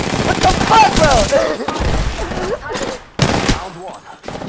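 Rapid gunfire in a shooting video game crackles almost continuously, heavily mixed with excited players talking over it, and it drops out briefly a few times.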